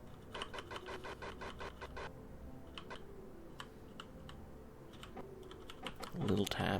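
Rapid close clicks from a computer keyboard or mouse come in quick bursts, then scattered single taps, over a low background hum, with a louder noise at the very end.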